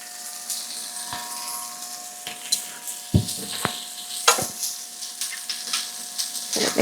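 Grapeseed oil spits and sizzles in a hot pan close up, a steady crackling fry punctuated by a few sharp knocks and scrapes of a utensil against the pan.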